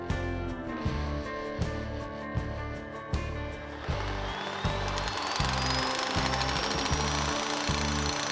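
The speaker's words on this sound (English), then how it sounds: "I'm wondering if I can break this up with a chisel" A power chisel hammers at a cracked rock during a farmhouse renovation, a loud, rapid rattling pound that runs continuously with brief rhythmic surges and a rising whine near the end.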